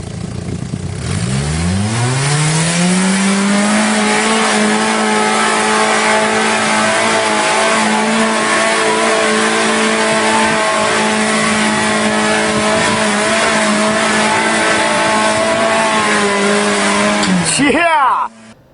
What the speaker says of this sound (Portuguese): O Jeep vai subir ou vai capotar?